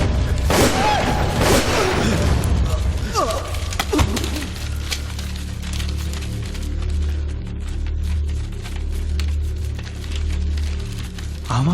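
Gunfire and heavy impacts in a Tamil action film scene, several loud bursts and booms early on, then a sustained rumbling low drone with scattered sharp cracks, with dialogue over parts.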